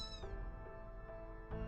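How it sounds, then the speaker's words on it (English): A cat meows in the video game Fate/Grand Order, a single drawn-out meow with a rising start and a short second cry at the end, clear and close with no talk. "Was that a cat?"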